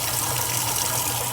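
Washing machine filling with warm water, a steady close rushing gush pouring into the tub, constant and loud throughout with no talk.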